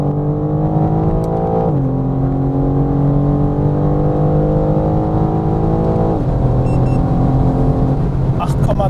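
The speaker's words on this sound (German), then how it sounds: "Ich gehe jetzt auf jeden Fall mal in den 4. Gang und probiere es einfach noch mal." A BMW M4 Competition (G82) pulls hard in fourth gear on the road, its engine droning at a steady pitch that climbs, dips briefly around each shift, then rises again, with faint cabin noise.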